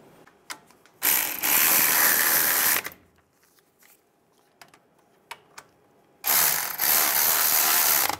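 A ratchet drives brake caliper bolts on a Chevy Silverado 1500 in two loud bursts of rapid clicking, separated by a quieter stretch of scattered metallic taps and handling noises.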